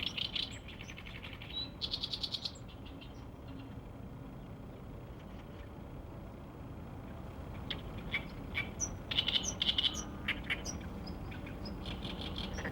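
Common greenshanks call from reed beds in the Nakdong River delta, clear piping notes in short bursts scattered over a steady low background rumble, moderately distant and faint.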